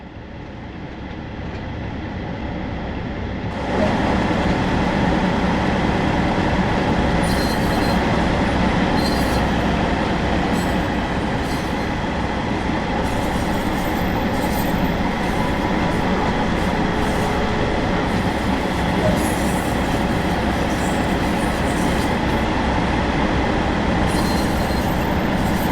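A train rolling along the West Cornwall line in the game Train Sim World 2. It gives a steady, loud rail rumble throughout, and wheel clatter and squeal build after the opening seconds.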